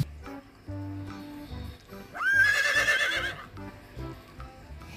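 A toy horse lets out one electronic neigh, a rising then wavering whinny lasting about a second, close and clear between quieter mechanical clicks and hums, with no one talking.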